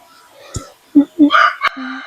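Chickens cluck and a rooster crows nearby in short bursts. A faint voice is heard in the background.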